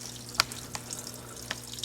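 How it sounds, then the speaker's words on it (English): Small waterfall inside a large water dragon cage, a faint trickle of water with a few soft splashing drips over a steady low hum. "there's the waterfall"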